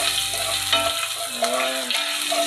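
Ginger sizzling and frying in a pan as the base for chicken curry, a steady hiss with stirring scrapes, a brief utensil clank and faint tonal clinks, close and continuous with no talking.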